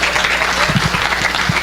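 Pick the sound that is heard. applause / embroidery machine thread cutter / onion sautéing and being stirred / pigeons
applause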